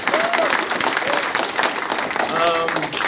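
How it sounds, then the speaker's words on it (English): Audience applause at a farmworkers solidarity gathering in Springfield, Oregon, a steady wash of clapping from a crowd lasting about three seconds, with voices calling out over it. "Can we give one more hand, another applause as well?"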